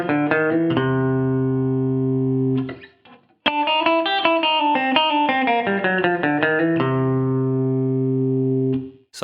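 A clean electric guitar with light compression plays a short country lick between sustained ringing chords, with a brief pause and light reverb, no voices.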